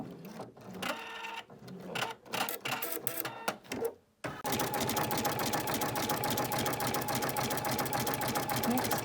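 Embroidery sewing machine stitching mint green thread around the top edge of an appliqué seashell on an in-the-hoop placemat, starting in stuttering bursts, then settling into a steady, fast, rhythmic mechanical whir.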